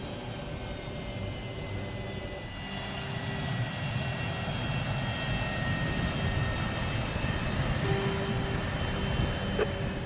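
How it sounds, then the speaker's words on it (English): A film airliner on its landing approach into Bangor gives a steady, loud engine roar with a low rumble, holding constant throughout with no speech. "Routine landing."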